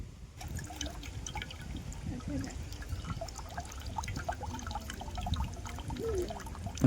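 Fresh coconut water from a large farm-grown coconut pours into a glass outdoors, a steady trickling splash running for several seconds with faint background voices.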